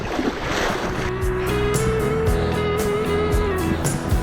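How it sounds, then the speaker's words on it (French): Sea waves at a beach on the French Atlantic coast wash and rumble steadily, mixed with gusty wind buffeting the microphone and a faint tonal hum running through the scene. "Il y a des vagues."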